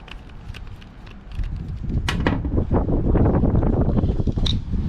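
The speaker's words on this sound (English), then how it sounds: "It is windy out here today." Gusty wind buffets a microphone outdoors during a carbon monoxide detector probe update, a steady rumbling roar that swells louder midway with brief sharp gust bursts.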